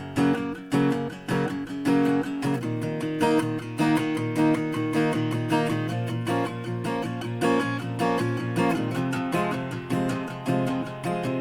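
Strummed guitar chords cycle through the progression of a song, with a rhythmic bass line moving underneath and regular accented strokes, played close and steady.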